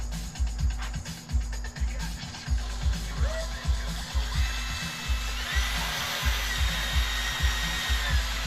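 A drill set to its lowest torque setting runs while boring pilot holes, its motor throbbing in a quick, regular pulsing rhythm under a faint higher whine.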